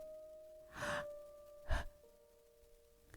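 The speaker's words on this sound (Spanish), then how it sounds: "Jadeas buscando algo de lo que sujetarte." Two sharp gasps of breath, the second louder and closer, over a faint steady tone.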